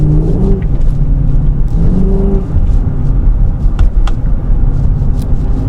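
A 2013 Dodge Charger R/T engine rumbles under load while downshifting, its revs surging briefly a couple of times over a steady, close, droning roar.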